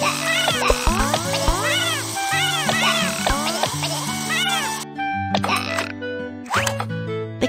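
Cartoonish meows from a stray kitten in a BabyBus children's game, several short rising-falling cries over bright music and playful effects, with a narrator's voice alongside.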